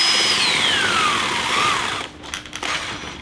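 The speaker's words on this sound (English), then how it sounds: "If I go the other direction, it still spins the same direction, because this is an alternator" A small DC motor spins up, driven by a DIY 40-watt low-RPM neodymium alternator, giving a loud, steady whir with a falling whine, then rattly, uneven buzzing toward the end, up close with no talking.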